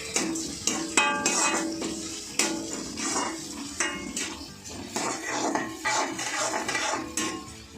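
Sliced onions sautéing in a pan for rava kichadi, a steady soft sizzle under repeated clinks and scrapes of a metal spoon stirring against the pan, close by with no talk.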